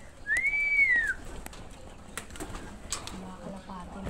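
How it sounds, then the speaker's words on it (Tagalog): Pigeons at feeding time in a backyard loft give a single clear whistling call near the start, followed by faint rustling and small movements, with quiet ambient noise in the background. "papakain nga pala tayo ng kalapati ngayon"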